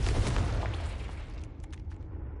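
A Confringo fire-blast spell going off in Hogwarts Legacy on PS5: one loud, deep, rumbling explosion that bursts at once and then slowly fades away over a couple of seconds.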